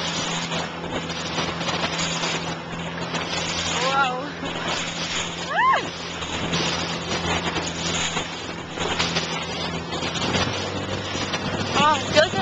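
A very small boat out on ocean waves: a steady motor drone and buffeting wind noise run throughout, with brief voices and exclamations over the top.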